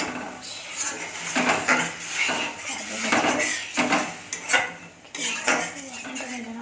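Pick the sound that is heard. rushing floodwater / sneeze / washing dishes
washing dishes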